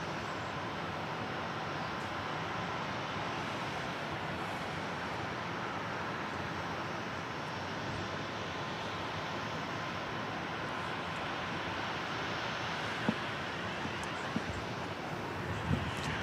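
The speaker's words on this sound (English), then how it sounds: "it's going to be Southwest Flight 1335, another 737-700" A Southwest Boeing 737-700, dating from 2003, arrives at Dallas Love Field, heard as a steady broad roar of jet engine noise heard from a distance, fairly faint and unchanging, with a couple of small knocks near the end.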